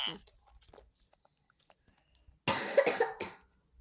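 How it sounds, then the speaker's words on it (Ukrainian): A person coughs in a short, loud burst of a few harsh coughs near the end, after a stretch of faint rustling and quiet movement. "я не на тебе кашлю"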